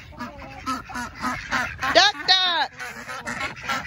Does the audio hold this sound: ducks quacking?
yes